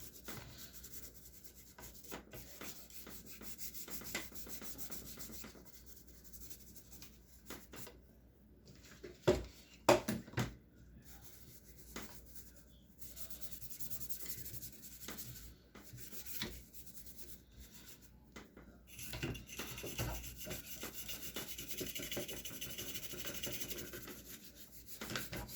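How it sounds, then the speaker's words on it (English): Internal parts of an AR-15 rifle are scrubbed clean with a brush, a faint, steady rubbing and scraping that runs on and off, with a few louder knocks partway through. "So you want to go through, scrub off any extra stuff"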